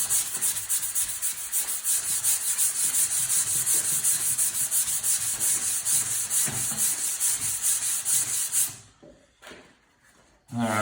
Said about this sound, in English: grab a sanding sponge and give it a light sand and kind of sand out some of it